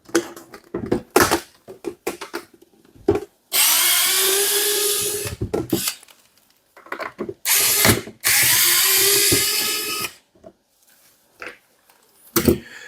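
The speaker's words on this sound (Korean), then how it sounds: "여기 뒤에 보시면은 양쪽에 이렇게 나사가 2개 있어요. 이걸 먼저 풀어주겠습니다." A powered screwdriver backs out the two rear screws on the body case of a bidet (DB-5500 / DBS-55 / DLB-910 / 920 series), with three loud, close whirring runs of one to two seconds between sharp clicks and handling knocks.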